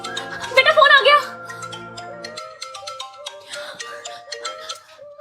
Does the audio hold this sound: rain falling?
no